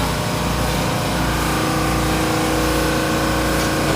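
A ship's engine running in the engine room, a loud, dense, steady roar with a constant mechanical hum and a faint regular low pulse, filling the space without a break.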